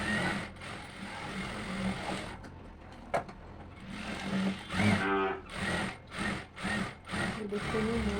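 A sewing machine stitches the side seam of a blouse sleeve, its motor running in short rhythmic bursts that start and stop toward the end, close and fairly quiet over a faint background murmur.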